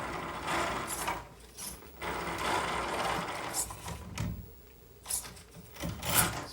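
A Hobbywing Fusion Mini16 motor in an MN99s RC crawler creeping slowly, giving a steady close mechanical whir and grind with gear rubbing that swells and dips in short bursts, no voices.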